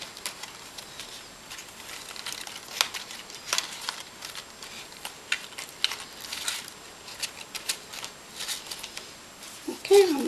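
Paper birdcage pieces being bent and hooked together in a craft session, soft scattered crinkles, taps and rustles of handled paper, close and fairly quiet.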